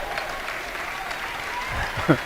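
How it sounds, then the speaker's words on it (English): Crowd applause in a gym at a high school girls' basketball game, scattered clapping under a busy mix of crowd noise and voices, with a squeak or whistle-like tone near the end. "She gets a round of applause."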